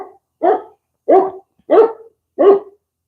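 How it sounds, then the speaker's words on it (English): A dog barks nearby, five loud, evenly spaced barks about half a second apart, with no one talking over them. "Sorry, the dogs."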